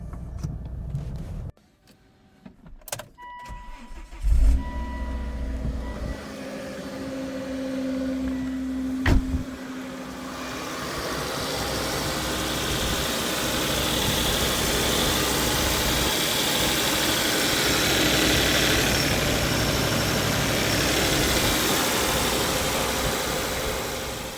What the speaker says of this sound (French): allumer le moteur et faire un démarrage à froid